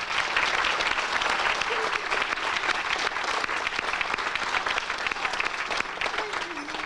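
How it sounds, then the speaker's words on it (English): Sustained audience applause fills a bridge milestone event, a dense, even wash of many hands clapping that stays loud and steady throughout with no break. "I think they deserve a round of applause as well."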